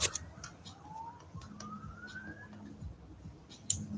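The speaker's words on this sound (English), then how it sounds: "Police siren in the background." A faint police siren wails in the distance, its tone slowly rising, beneath quiet room noise and occasional small clicks.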